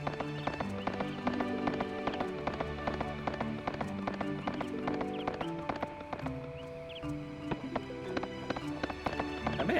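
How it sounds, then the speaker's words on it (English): A horse galloping in the video game Suikoden III, rapid rhythmic hoofbeat clip-clops repeating steadily over layered game music, moderately loud and close throughout. "At least we've got the horse."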